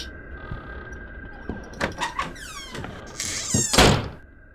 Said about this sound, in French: À chaque fois, les portes claquent.